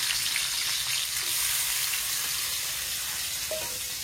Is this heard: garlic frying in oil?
yes